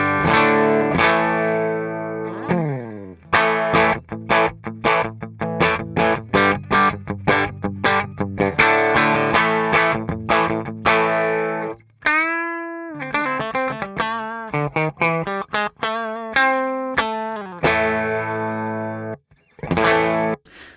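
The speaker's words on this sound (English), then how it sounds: "let me play you a little bit of what the loop sounds like, just so you can hear it clean first" Looped electric guitar phrase, chords and single notes in a steady repeating pattern, played through a tube amplifier with KT77, 6L6GC, EL34 or KT66 power tubes; loud and close, alone without talk.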